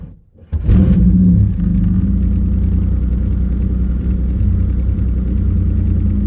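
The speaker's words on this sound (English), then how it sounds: "supercharged 1987 Fiero GT." A supercharged, L67-swapped 1987 Pontiac Fiero GT starts up and settles into a steady, loud, close engine rumble with a low droning tone, after a brief quiet moment at the start.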